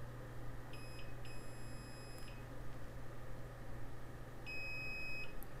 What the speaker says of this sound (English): if the connection is good, we're gonna hear a beep just like this.